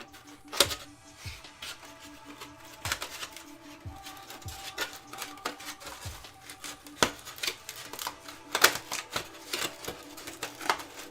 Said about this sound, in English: Sound of styrofoam being destroyed.